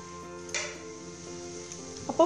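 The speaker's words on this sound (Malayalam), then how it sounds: "ഇനി നമുക്കിത് ഫ്രൈ ചെയ്തെടുക്കാം." Chicken cutlets coated in egg and bread crumbs fry in a pan with a quiet, steady sizzle, a soft bump as one goes in, and a brief clatter near the end.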